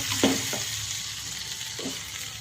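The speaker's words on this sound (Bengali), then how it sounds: "এবার আমি আলুটা দেব" Potatoes go into a pan of frying ginger, cumin, garlic, onion and chilli masala, giving a steady close sizzle broken by a few short scraping stirs near the start and again later.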